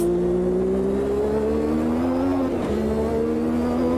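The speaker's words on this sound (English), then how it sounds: "V6 engine underneath" A single-seater race car with a V6 engine in Automobilista 2 drones steadily at high revs, its note climbing slowly, then dipping briefly as it shifts before resuming a loud, continuous engine howl.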